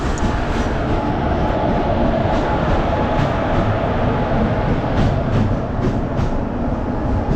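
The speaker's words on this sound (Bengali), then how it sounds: "এই হচ্ছে গঙ্গাসাগর এক্সপ্রেস" The Gangasagar Express rumbles along steadily, a loud continuous roar of wheels and carriages with faint rhythmic clatter, heard close throughout.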